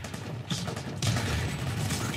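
Enemy soldiers fire at the player in the PS2 shooter Death From Above: dense, continuous bursts of game gunfire with an abrupt louder surge midway, and no talk over it.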